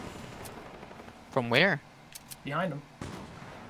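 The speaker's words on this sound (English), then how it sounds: "I think someone's shooting him." Gunshots in the Fortnite battle royale game crack faintly in the distance as a few short, sharp reports, half buried beneath two players talking over one another.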